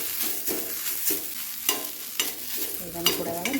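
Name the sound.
coriander roasting in a pan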